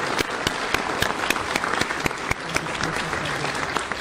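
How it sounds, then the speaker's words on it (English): An audience at an Eagle Scout Court of Honor gives a round of applause, with many hands clapping steadily. Several sharp nearby claps stand out above the wash for about four seconds. "Let's have one more round of applause for all of our Eagle Scouts in the room."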